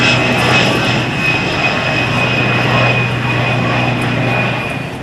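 Fixed-wing aircraft engines drone loudly and steadily overhead at a 2004 Naval Air Station Oceana airshow during a USAF Heritage Flight, a continuous near roar that slowly fades toward the end.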